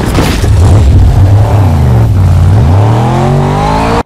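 A car in the video game Fortnite drives off and revs hard, its engine loud and close, pitch climbing and dipping through gear-like sweeps before cutting off abruptly.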